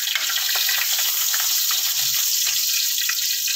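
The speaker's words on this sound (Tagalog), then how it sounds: "gisa na natin ang ating adobo" Garlic sizzling in hot oil in a pan while cooking chicken adobo, a steady, bright frying hiss with small crackles and stirring, close and continuous with no talk.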